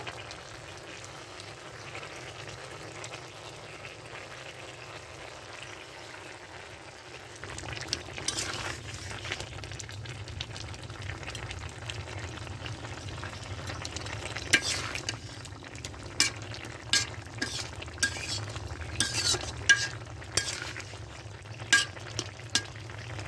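A pot of fish curry with potatoes is cooking, with a soft bubbling simmer beneath intermittent utensil clinks and stirring scrapes that grow more frequent toward the end.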